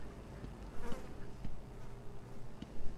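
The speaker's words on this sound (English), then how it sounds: "I'm hearing bees." Bees or flies buzz steadily in the video game Batman: Arkham Asylum, a soft continuous drone that swells and fades in small surges, heard alone without speech.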